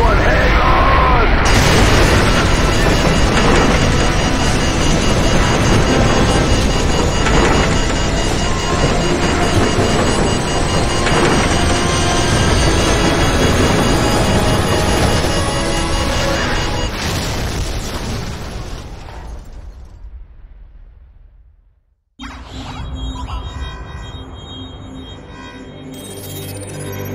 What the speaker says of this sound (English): What appears to be an explosion of epic proportions remains sketchy and unconfirmed.